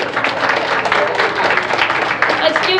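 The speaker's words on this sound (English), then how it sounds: "Let's give them a big round of applause." Audience members at a community event applaud volunteers from local organizations, a dense burst of clapping that fills the room, fairly close and loud, with voices and cheering mixed in.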